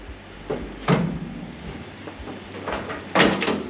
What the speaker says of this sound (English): Let's see how the door opens.